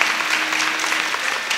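Loud, steady applause from a kirtan audience, dense and continuous throughout at close range, with faint voices under it.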